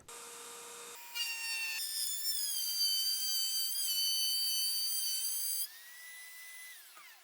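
A Dremel rotary tool fitted with a mortising router bit cuts scrap MDF. A high whine spins up in steps, holds loud and steady while cutting, then drops and spins down at the end.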